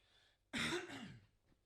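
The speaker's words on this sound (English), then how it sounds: "Gosh, stop coughing." A single harsh throat-clearing cough, close and fairly loud, lasting under a second, followed by quiet.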